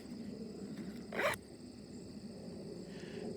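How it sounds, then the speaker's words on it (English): A single quick pull of a YKK zipper on a backpack, brief and fairly quiet, over a steady low background hum. "These are YKK zippers."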